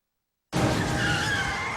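A dramatized car skid off the road: after half a second of silence, a loud tire screech bursts in abruptly and holds steady to the end.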